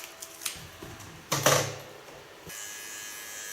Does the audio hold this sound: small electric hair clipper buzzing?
yes